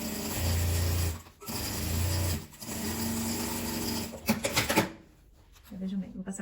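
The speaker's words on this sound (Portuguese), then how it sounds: "Vejam bem, vou passar costura nessa parte." A sewing machine stitches straight seams on a patchwork denim bag made from jeans, running in steady loud whirring bursts with brief pauses between them, then stopping near the end.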